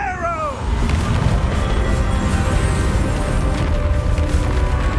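The Reparo repair spell is cast in Hogwarts Legacy, opening with a brief swooping, wavering magical tone that falls away into a loud, steady windy rush filling the rest of the scene.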